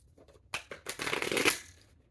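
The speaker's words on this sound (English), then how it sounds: "I'm going to shuffle them right in front of me here." A deck of sticky custom playing cards is shuffled up close, a couple of quick riffles followed by a longer fluttering rush that fades, alone with no talk.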